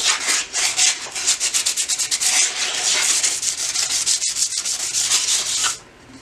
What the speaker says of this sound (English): I'm gonna sand over my cup and get all these pieces sticking up really smooth.